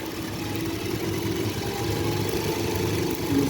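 A sewing machine runs steadily while stitching a front strap onto a shoe upper, a continuous low mechanical hum with a fast even rhythm, no talking.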